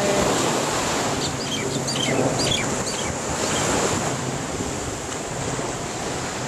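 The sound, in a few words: ocean waves on a beach in Hawaii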